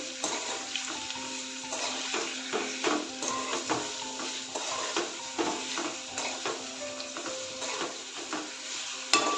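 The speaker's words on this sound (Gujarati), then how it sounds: "અને બધું એકદમ સરસ હલાવી લેશું" Spoon working chopped tomatoes and salt around a pan for homemade pizza sauce, giving quiet, irregular scrapes and clinks over a soft sizzle, close up with no talking.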